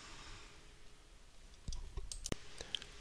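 A few quiet computer mouse clicks while downloading a file, soft sharp ticks close by against a near-silent background.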